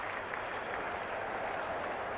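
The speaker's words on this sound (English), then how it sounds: "I can hear a ripple of applause there" A cricket crowd at an India versus Pakistan match in Calcutta gives a soft, distant ripple of applause, a steady, faint patter of clapping across the stadium with no speech.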